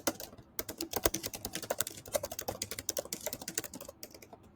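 Rapid, irregular typing on a computer keyboard, close and fairly quiet, a steady stream of key clicks with a brief pause near the end and no voices.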